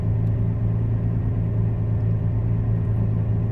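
A Ford Capri engine drones in a steady low rumble with a constant hum, as if heard from inside the moving vehicle.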